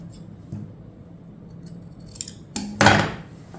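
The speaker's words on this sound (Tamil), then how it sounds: "இந்த பீஸை வந்து நம்ம கட் பண்ணி விட்டுடலாம்" Scissors snip through an extra piece of chudithar fabric with a few quiet cuts that end in louder crisp snips.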